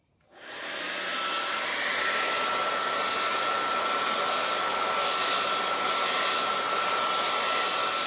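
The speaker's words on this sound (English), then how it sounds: "And then I'll have the dryer." A hair dryer switches on and blows steadily over a wet watercolor painting with gold accents, a loud, even whooshing roar that rises within the first second and holds unbroken throughout.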